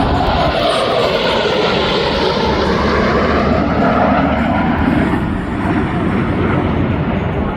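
Blue Angels jets passing at the MCAS Miramar air show, a loud, sustained roaring jet engine rush that fills the whole stretch without fading, close and overpowering, with no clear speech.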